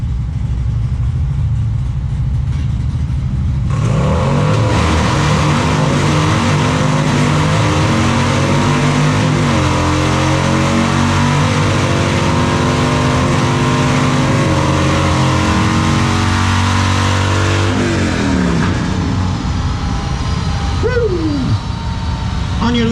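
A drag race car idles, then launches hard and accelerates down the strip at the Spring Fling Rally, a loud, rising engine roar that holds for several seconds before dropping off, with a voice talking over it.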